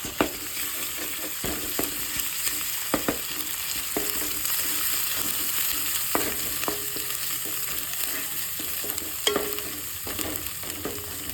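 Turmeric and ginger paste fries in hot oil for an aubergine curry, a continuous sizzle with frequent spoon scrapes and clicks against the pan, close and steady with no talking.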